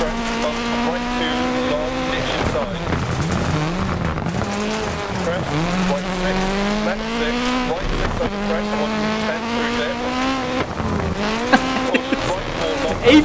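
A rally car engine in the Dirt Rally video game, set on a Wales stage, drones loud and steady throughout, its pitch rising and falling with the throttle, while a voice talks over it.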